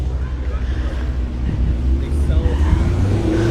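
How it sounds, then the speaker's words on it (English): A Corvette approaches down a street near a car show, its engine rumble swelling and growing louder as it nears, with a person talking over it. "look at this one coming down the street. So, it looks like a Corvette"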